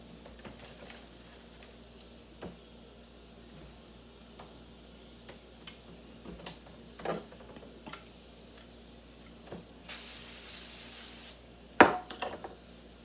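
A single short burst of spray hisses for about a second and a half, close and fairly loud, amid scattered small ticks and kitchen clatter.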